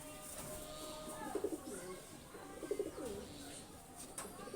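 Domestic high flying pigeons cooing nearby, two rounds of soft throaty coos over a faint background hum.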